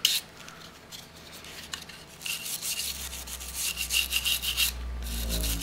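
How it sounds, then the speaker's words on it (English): Scrubbing gunk out of the extractor groove on a Walther P22 pistol slide: a steady, close, raspy rubbing and scraping that continues throughout and grows slightly louder toward the end. "Get the gunk out of the little extractor groove."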